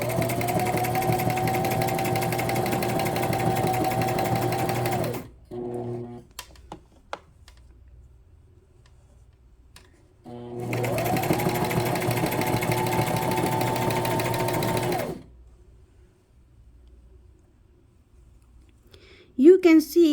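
A sewing machine stitching with a twin needle runs in two steady, loud whirring bursts of about five seconds each, separated by quiet handling clicks, with a brief voice at the end.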